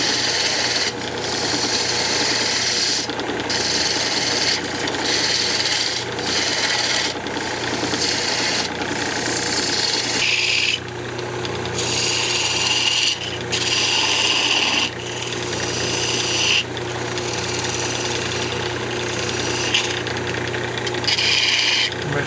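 Wood shaped with a fingernail gouge while turning a bandsaw box on a lathe gives a steady, loud scraping and rasping of the cutting tool on the spinning wood. It runs continuously throughout with slight pauses and no talking.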